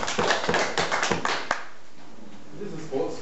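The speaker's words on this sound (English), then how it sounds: "Give him a clap." A short burst of clapping with cheering over it at a demo awards ceremony at Syntax Party 2010, then a quieter stretch with faint voices.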